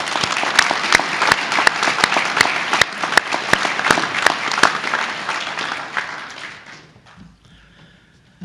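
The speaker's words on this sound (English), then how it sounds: "big round of applause for all of our guests" Audience at a university State of the University address claps for invited guests, a dense burst of applause with a few sharp, prominent claps standing out, then trailing off to near quiet by the last second.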